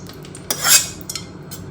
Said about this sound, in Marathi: त्याला सगळं मिक्स करून देते पूर्ण पोहे वगैरे